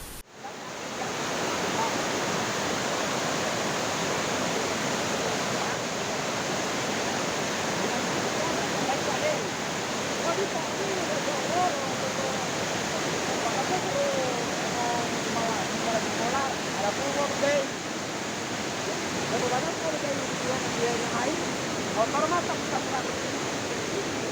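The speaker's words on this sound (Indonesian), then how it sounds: "Derasnya air dari perbukitan hingga membuat air sungai meluap dan menerjang rumah warga." Flash-flood water pours down from the hills and an overflowing river surges past homes in a village in Meranti, a loud, unbroken roaring rush that holds steady throughout.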